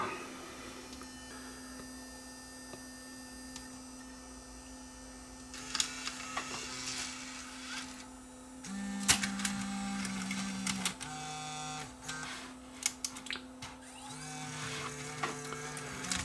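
Panasonic AG-DV2500 Mini DV deck with a fault that leaves the tape slack, its mechanism whirring and threading tape: a steady motor hum, then clicks, gear buzzes and short motorized runs of moderate loudness, with no talk.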